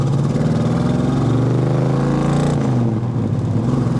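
A 1964 Chevrolet Nova engine runs steadily and loudly during a test drive, holding a strong, even drone that sags slightly near the end as the revs ease off.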